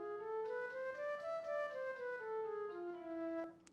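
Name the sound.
altered major Freygish mode scale played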